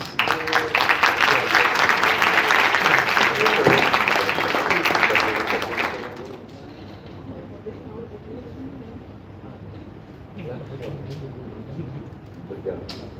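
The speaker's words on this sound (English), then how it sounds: "A round of applause." Audience applause after a presentation at a conference session, a dense wash of clapping for about six seconds that then fades into quieter room noise with murmuring.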